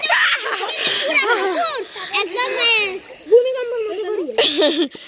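A young child splashes while learning to swim, with bursts of water splatter and giggling mixed through steady children's chatter and laughter close by.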